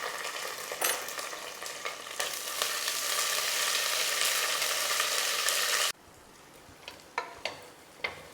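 Onions with ginger garlic paste sizzle loudly in a pan for pulao while being stirred, with scraping strokes throughout; the frying drops abruptly to a quieter hiss, then a few sharp spoon knocks follow.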